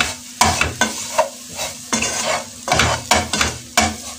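A spoon scrapes and stirs grated coconut mixed with sugar in a hot pan, giving repeated clattering strokes about every half second over a faint sizzle.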